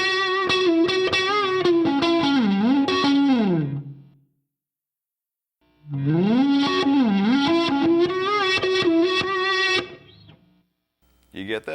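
Reversed electric guitar phrase from a song's solo, played with a swelling distorted tone and chorus-like wobble, in two loud sustained passages separated by a short silence, with no talk.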